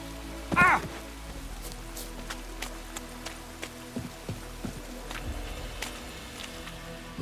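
Rain falls in a scene from The Witcher 3: Wild Hunt, a soft steady patter with scattered sharper drops and taps, preceded by a brief louder voiced sound near the start; the ambience stays fairly quiet otherwise.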